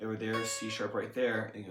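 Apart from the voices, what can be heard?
No everyday noises stand out.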